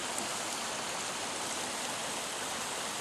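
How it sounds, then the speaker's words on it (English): Steady broadband rush of creek water flowing near mud and sand banks in the forest north of Mount Rainier, continuous and even with no pauses and no voices. "Just after 2 in the afternoon, we're down by the creek."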